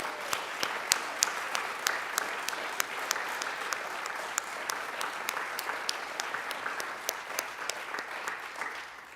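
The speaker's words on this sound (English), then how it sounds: "let's give one more round of applause for our confirmands" A church congregation gives a round of applause for confirmands, the clapping moderate in volume and steady, a fairly small gathering with sharp individual claps standing out, continuing for several seconds with no talk.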